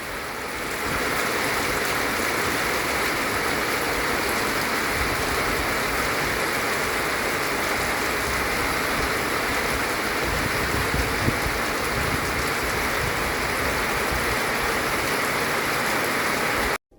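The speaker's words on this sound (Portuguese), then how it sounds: "tá chovendo. E muito." Heavy rain pours down at night beside a fishing spot, a dense, loud, continuous hiss of drops hitting surfaces with no pauses, cutting off abruptly at the end.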